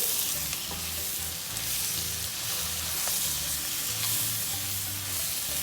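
Kashmiri red chili powder and cumin powder stirred into a sizzling butter chicken masala in a pan, a steady loud frying hiss with continuous stirring and no talking.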